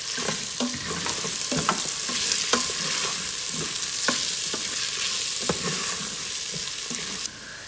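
Potatoes fry with ginger garlic paste for a masala dosa filling, a constant close sizzle broken by repeated scraping stirs of a spoon in the pan, quietening near the end.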